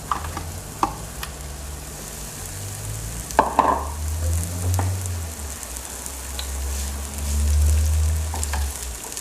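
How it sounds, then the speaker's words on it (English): Onions cook in heated olive oil in a pot, giving a continuous moderate sizzle with a few clicks and a brief scraping stir near the middle, no voices. "we're going to add our onions and allow those to cook a bit first"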